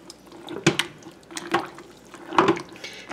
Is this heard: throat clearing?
no